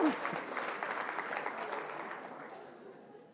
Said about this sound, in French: il faut applaudir, c'est le moment